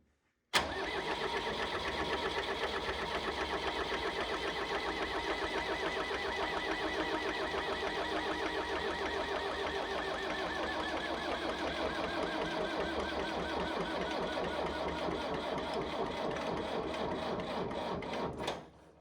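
A Universal 55 hp diesel tractor engine cranks over without firing, a steady rhythmic churning that runs alone for most of twenty seconds before cutting off abruptly.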